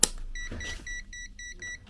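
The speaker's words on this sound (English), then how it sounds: "You get a load of beeps, I think 4 beeps there" A short series of high electronic beeps from an AstroAI M6KOR multimeter, about four evenly spaced tones, clear and close over faint background noise.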